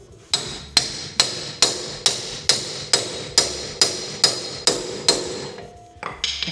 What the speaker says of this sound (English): So what I'll do is I'll find my hammer